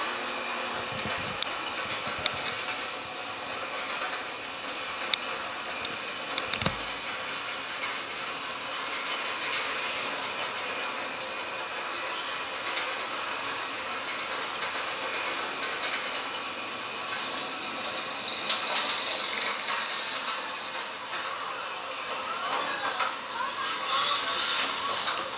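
Valravn roller coaster at Cedar Point, ridden as a virtual ride shown on a screen: a steady, hissing rumble of a coaster train runs throughout, with occasional sharp clacks and a slight swell in intensity toward the end.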